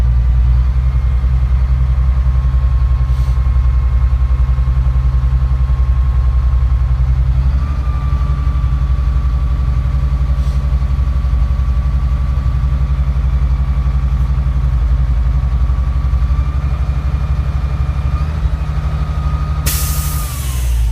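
A truck engine idles with a loud, steady low rumble while the air brake system builds pressure, a thin whine running over it, shifting slightly partway through and ending in a sharp hiss of released air.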